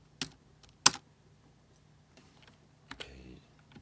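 Linux commands are typed on a computer keyboard: a few sparse, crisp key clicks and a sharper press, with quiet pauses between, near and fairly soft.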